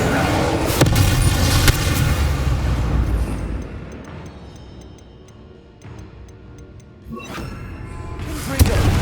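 A Bombarda blasting spell goes off in Hogwarts Legacy on PS5: a loud, booming explosion with crackling debris that swells, fades to a quieter stretch, then returns with sharp follow-up bursts near the end.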